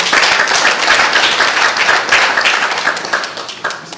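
A seminar audience breaks into sustained hand clapping, a dense, lively patter of many hands that stays loud throughout and tapers slightly toward the end.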